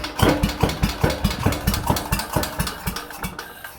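A 69-year-old Briggs & Stratton 23A-FB engine sputters weakly after a rope pull, giving a rapid, uneven train of low firing pulses that loses steam over a few seconds, close by with no talk.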